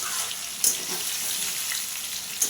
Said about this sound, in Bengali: আর একটু লাল লাল করে ভেজে নেব নাড়াচাড়া করে আরও দু মিনিট